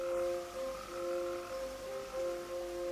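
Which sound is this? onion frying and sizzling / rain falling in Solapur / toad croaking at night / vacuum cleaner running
toad croaking at night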